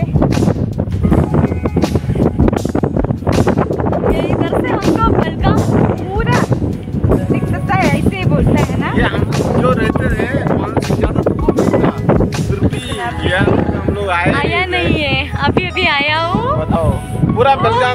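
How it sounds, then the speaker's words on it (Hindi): Strong wind buffets the microphone on the hilltop at Rajhansgad Fort, a loud, constant roar with gusty rumble running throughout, while people talk over it. "फ्रेश एयर है, हवा तेज, हवा चल रही है अभी।"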